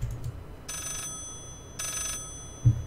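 A telephone ringing in the horror video game Layers of Fear, two electronic ring bursts about a second long each, separated by a pause, over a low rumbling ambient drone, with no talking.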